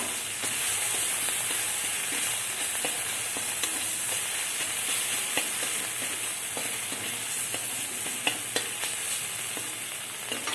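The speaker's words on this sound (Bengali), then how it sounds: "ভালো করে আমি ভেজে নিচ্ছি মশলা" Spices frying in hot oil in a pan for potol curry, a steady, close sizzle with small crackling pops throughout.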